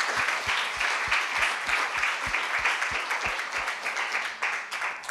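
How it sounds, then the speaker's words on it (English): An audience applauds after a talk on urban greening plans, steady clapping with a rhythmic run of louder individual claps in the first half before thinning slightly. "Round of applause first."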